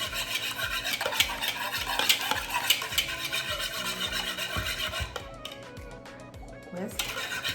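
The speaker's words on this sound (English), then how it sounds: "And we're going to whisk" Two eggs whisked in a bowl, a rapid rhythmic clatter of the whisk against the bowl, close by, running under talk before thinning to lighter taps.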